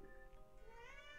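A cat meows close by in a long, drawn-out, rising cry, moderately quiet, with no one talking over it.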